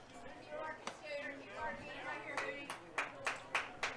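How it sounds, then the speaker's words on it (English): A small crowd at a college softball game claps in a series of sharp, distinct bursts, quickening toward the end, while speech runs faintly underneath. "So you hear pretty good little crowd out here for ICC this afternoon"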